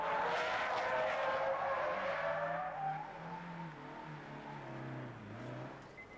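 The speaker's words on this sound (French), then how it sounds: "De plus, le moteur il fait un bruit incroyable." A high-revving sports car engine, redlining near 9000 rpm, screams and slides through a long curve, loud and close at first, then a falling engine tone as it eases off, with no talk.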